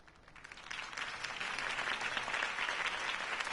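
Crowd applause at a campaign rally for Harvey Dent in the Batman Telltale video game, a steady wash of many hands clapping that swells in and holds loud throughout.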